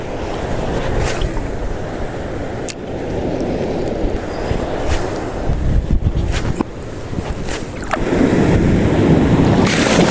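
Strong sea waves crash and surge against the shore at a shorecasting fishing spot in Real, Quezon, loud and close, with heavy wind buffeting the microphone between the swells.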